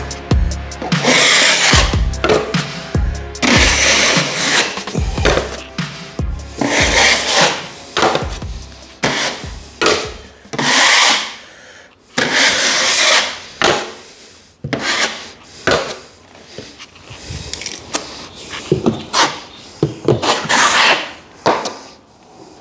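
A blade scrapes excess compound off a drywall patch in repeated rough strokes, loud and close, with brief pauses between passes.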